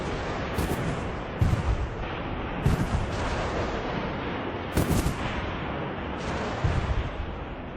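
Heavy artillery pounds the walls of Badajoz during an 1812 siege, in a radio drama: dull, rumbling gun blasts boom at irregular intervals over a continuous roar of bombardment, with no voices.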